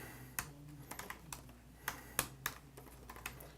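Quiet keystrokes tap irregularly on a computer keyboard, with scattered single clicks and short bursts of typing and no talking.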